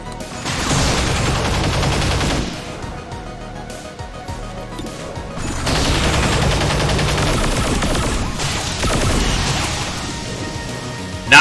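Rapid bursts of gunfire from the XCOM 2 video game, loud volleys in two main clusters with a brief lull between, heard alone without talk.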